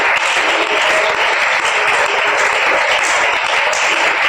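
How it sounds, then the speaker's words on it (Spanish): A church congregation applauds steadily throughout, a dense wash of many hands clapping at close range with no clear pauses. "Aplauda por favor su presencia."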